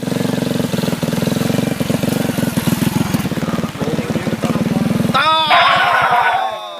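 A motorcycle engine runs steadily at close range with a low, pulsing idle, then a voice breaks in near the end over the engine.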